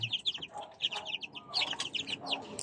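Darag native chickens at a chicken waterer make soft, close clucks and short chirps, several birds calling in quick, irregular bursts.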